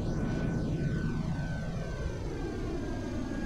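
Airbus A330 airliner in a flight simulator game, its engines roaring steadily and loudly throughout with a broad, constant jet drone and faint sweeping tones.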